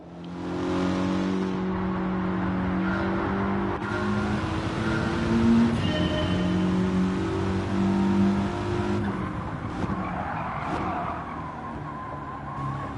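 A race car engine in Gran Turismo 7 roars steadily and loudly for about nine seconds, its pitch climbing and falling as the driver works the throttle, then eases off and fades toward the end. No one speaks.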